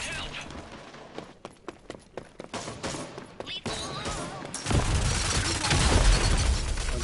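Gunfire in the video game Rogue Company: several sharp shots early on, then a denser, louder stretch of rapid fire and game action blending with a player talking over it.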